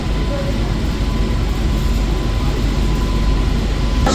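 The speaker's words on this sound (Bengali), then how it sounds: "ট্রেন আমাদের এখন প্রবেশ করলো হলো ব্যারাকপুর স্টেশনে।" Suburban train pulling into Barrackpore station, a steady, loud rumble and roar of the moving carriages filling the whole span without pause, with a faint tonal hum running underneath.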